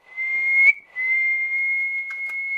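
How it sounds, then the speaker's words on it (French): A person whistles a single sustained steady note, briefly breaking off and then holding it again, close and clear over near silence. "Voilà, je siffle bien."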